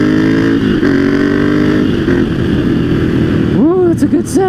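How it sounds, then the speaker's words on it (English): A motorcycle's L-twin engine roars steadily and loudly up close with a deep, throbbing exhaust tone, ending in a few quick blips of the throttle. "The roar of that L-twin. What a great engine"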